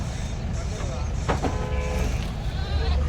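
A white sheep bleats a couple of times amid a busy outdoor scene where a van-load of sheep is unloaded, with people talking and an engine rumbling nearby.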